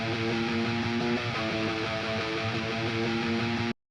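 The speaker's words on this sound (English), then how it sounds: "I used half-step bend picking." Electric guitar plays a dense, distorted heavy riff using half-step bend picking, loud and continuous with a steady pulsing rhythm for about four seconds before cutting off abruptly.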